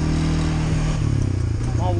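A four-wheeler ATV engine runs steadily at close range at a turkey hunting camp, a loud low rumble with a rough, pulsing idle that fills the whole moment.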